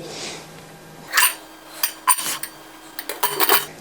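Several sharp metallic clanks and clinks of a pressure cooker lid being handled and shut, close by, in short bursts with quiet gaps between.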